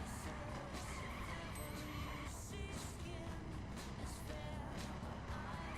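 A race car in The Crew spins its wheels and struggles for grip accelerating out of corners, a constant engine roar layered with repeated tire squeals and skidding, loud and close.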